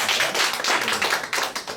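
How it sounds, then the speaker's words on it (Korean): An audience at a Christian media forum claps in thanks after a lecture, loud rhythmic bursts of hand claps pulsing close together throughout, with no talking over it. "큰 박수로 감사를 드립니다."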